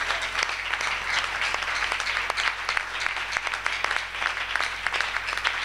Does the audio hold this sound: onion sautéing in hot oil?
no